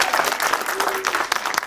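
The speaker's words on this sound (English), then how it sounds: "let's give a round of applause to our host today" A summit audience claps for the host in dense, continuous applause, with a few sharper claps standing out and faint crowd voices mixed in.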